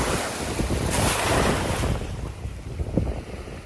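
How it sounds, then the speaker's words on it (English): Ocean surf washing onto a beach at a shelling spot, a steady broadband wash with a louder surge in the middle, mixed with wind buffeting the microphone and no voices. "sometimes the waves are moving, right?"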